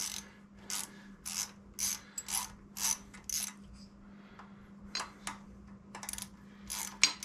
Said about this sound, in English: tighten that little screw back up with your T20 Torx bit